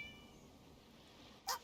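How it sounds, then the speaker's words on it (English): In Genshin Impact, a single short cat meow sounds near the end over quiet background ambience, faint and brief but clear. "It sounded like a cat."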